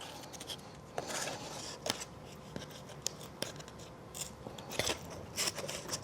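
Scissors cut through folded paper in a run of crisp, close snips and crunchy rustles, irregular in rhythm and fairly quiet.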